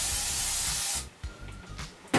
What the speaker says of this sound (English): take the quick and spray this.